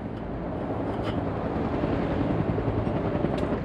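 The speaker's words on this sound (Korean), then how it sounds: "스물다섯 시간 이상 비행을 마친 공격 헬기는 건강검진에 들어간다" A Cobra attack helicopter, a military gunship, makes a steady, loud rotor and turbine roar with continuous rumbling wash and no talk.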